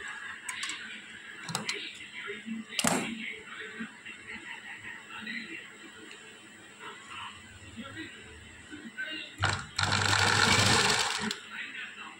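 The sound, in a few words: sewing machine stitching lining piece for hand piping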